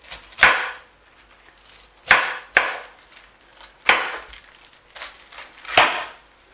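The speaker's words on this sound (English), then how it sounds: "Continue and peel your pineapple." A knife peels a pineapple in five crisp, scraping strokes, each a sharp cut that fades quickly, spaced unevenly with quiet gaps between them.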